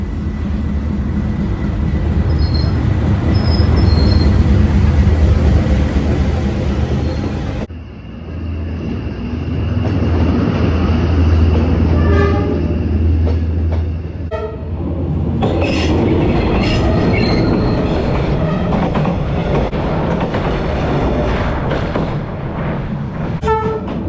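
A train runs down Hanoi's narrow train street lined with cafes: a loud, continuous rumble and rattle of wagons close by, with wheel squeal and clickety-clack, and a brief horn partway through.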